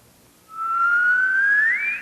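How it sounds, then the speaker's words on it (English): A single person whistles one sustained note that slides gradually upward and rises further near the end, clear and close with nothing else around it. "Whistling is hard to do"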